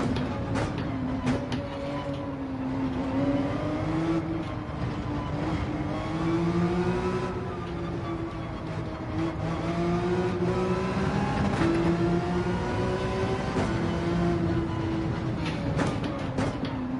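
Porsche race car engine in Gran Turismo 7 holds a steady high-revving drone with rising and falling pitch through gear changes, loud and continuous for the whole stretch.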